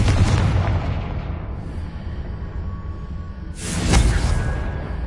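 In a Harry Potter video game, a Confringo blasting spell erupts in a loud booming explosion that rumbles and fades, followed a few seconds later by a second forceful burst.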